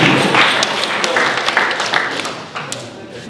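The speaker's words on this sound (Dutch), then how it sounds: "Geef een applaus." An audience at an exhibition opening in Amstelveen applauds the mayor, with loud, close clapping that thins out toward the end, mixed with some chatter.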